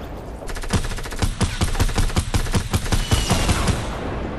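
Rapid automatic gunfire from a shooter video game, a dense run of close, loud shots at a steady fast rhythm lasting several seconds with no talking.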